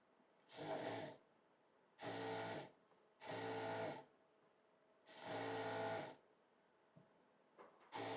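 An electric sewing machine stitches a Patiala salwar in four loud bursts, each running about half a second to a second with short pauses between, followed by a few faint clicks as the fabric is handled.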